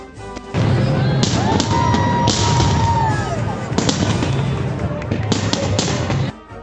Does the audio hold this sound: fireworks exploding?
yes